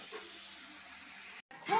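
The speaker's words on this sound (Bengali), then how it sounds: "মাংসটা আমি ভালো করে একটু ভেজে নিচ্ছি এপিট এপিট করে" Meat for biryani frying in a pot gives off a steady, moderate hiss and sizzle, then cuts out briefly before a louder burst of sizzling and clatter at the end.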